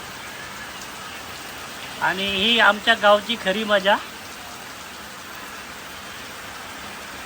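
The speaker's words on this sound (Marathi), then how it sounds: "गेले दोन तासापासून जोरदार असा पाऊस चालू आहे" Heavy monsoon rain that has been falling for hours in a Konkan village hisses steadily and loudly throughout. Someone speaks briefly partway through, and the downpour continues unbroken beneath him.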